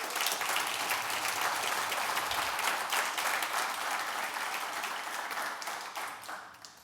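A conference audience gives the speakers a round of applause, loud continuous clapping from a full room that holds steady and fades near the end.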